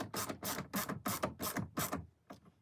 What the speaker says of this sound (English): you can take your ratchet and you can just tighten it.